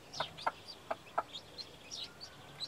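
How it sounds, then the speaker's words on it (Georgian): One-day-old chicks peep in a quick run of high, thin calls, a few louder near chirps and fainter ones overlapping behind, against a quiet background. "ერთი დღის წიწილი."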